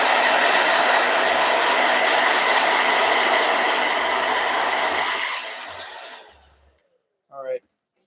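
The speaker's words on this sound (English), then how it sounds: "Oh, blow dryer." A blow dryer runs loud and steady with a broadband whoosh, then switches off and winds down, leaving near silence and a brief squeaky sound at the end.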